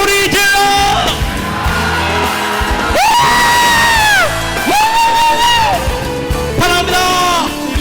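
A church congregation shouts and whoops together at the end of a worship song, a loud sustained crowd roar swelling in waves over continuing music.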